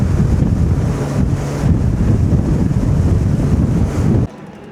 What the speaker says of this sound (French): j'ai l'impression que plus on avance dans la soirée et plus le vent forcit.